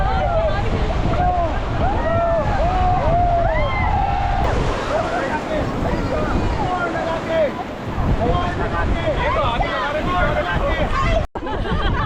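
A raft on the Ganga river in Rishikesh is paddled amid splashing water and the rush of rapids, with a crowd of rafters shouting and chattering loudly throughout.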